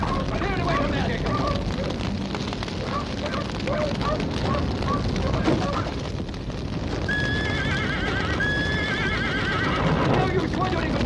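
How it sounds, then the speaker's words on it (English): Repeated horse whinnies rise over clattering hooves and agitated voices, with two long shrill neighs standing out near the end amid the commotion. "I'm gonna help Larry with those horses."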